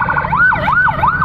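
An ambulance siren wails loud and close in a steady up-and-down rising and falling pattern, alone without talk, stuck in traffic on an Indonesian road.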